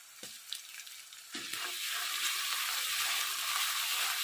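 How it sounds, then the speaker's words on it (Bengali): Onion and ginger paste frying in hot oil for a fish curry, a steady loud sizzle with a few stirring scrapes early on, then a dense continuous hiss with no talk. "পেঁয়াজ আর আদা বাটা ভালো করে তেলের উপর ব্রাউন কালার করে নেব ভেজে নিয়ে"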